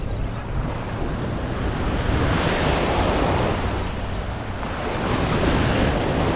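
Ocean waves break steadily on a beach in the shore break at Strand, a loud continuous roar of surf with gusty wind buffeting the microphone and no voices.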